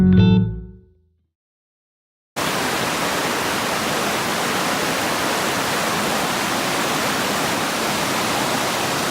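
Biscuit Creek in the Catskills of New York flows in a steady, loud broadband rush of water that holds constant throughout, after a brief fade and a silent gap at the start.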